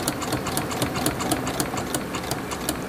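A sewing machine stitches craft cord in a steady, rapid mechanical chatter, close and continuous with a regular rhythmic pulse and no talking.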